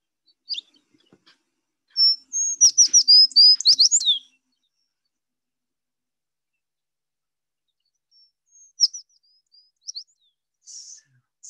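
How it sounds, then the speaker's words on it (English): American tree sparrow song recorded in the Western Arctic: a bright, high, rapid sweet trill of chirps lasting about two seconds, clear against silence, followed later by a few softer scattered calls. "So that is the beautiful voice of the American tree sparrow."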